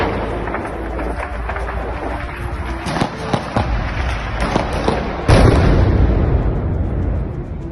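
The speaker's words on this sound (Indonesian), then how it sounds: "terjadi 2 ledakan tak lama setelah sirine serangan udara berbunyi" Explosions from a Russian kamikaze drone attack shortly after air-raid sirens, with several sharp, distant-sounding blasts over a rumbling background and a heavier, louder burst near the end.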